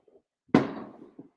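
A single firework bang in the background outdoors, one sharp burst with a short decaying rumble, followed by a faint second pop, heard alone with no talk.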